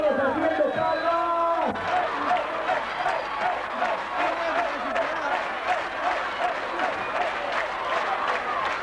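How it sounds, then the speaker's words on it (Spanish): A concert crowd at a 2000 cuarteto show in Concordia's Club Libertad claps along in a dense, steady roar, with music tones fading early and crowd voices mixed in. "¡Todos, todos haciendo palmas!"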